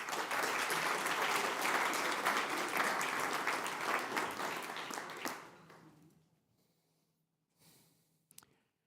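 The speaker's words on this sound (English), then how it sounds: "Please give him a big applause." Audience applause at the 6th Copernicus C3S General Assembly, a dense, loud clapping wash that holds steady for about five seconds, then fades out to near silence with a few faint stray sounds at the end.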